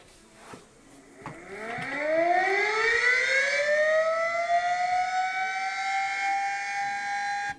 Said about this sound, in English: And then the Sterling M siren.